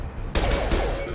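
A sudden loud burst of sustained gunfire in Mass Effect 2, a dense rattling volley that starts abruptly and continues without pause to the end.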